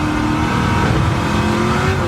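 The Red Devil Camaro race car, a Stielow Engineering build, roars at high revs in 4th gear, a loud, sustained engine note with a rising pitch and tyre noise.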